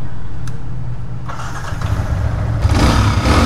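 A second-hand Yamaha R15 V3 motorcycle engine runs steadily up close with a low, even rumble that swells louder over the final second.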